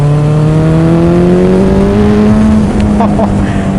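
A Suzuki Hayabusa motorcycle accelerates hard into a small wheelie, its engine note rising steadily in pitch and loud throughout, with steady wind rush behind it.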